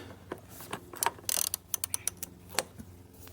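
Ratchet with an extension undoing the oil filter cap on a Mercedes W124, a close run of sharp metallic clicks and ticks coming in quick uneven bursts, loud and alone.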